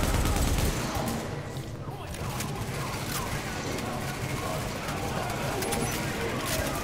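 Continuous heavy gunfire in The Division video game, a steady loud stream of shots with a siren-like wail underneath, while a player talks over it.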